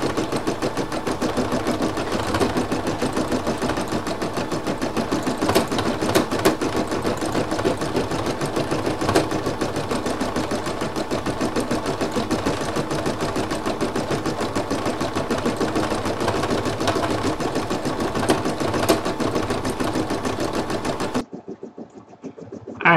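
An embroidery machine stitches a towel with a fast, steady mechanical chatter of needle strokes that runs on at close range for over twenty seconds, then stops abruptly near the end.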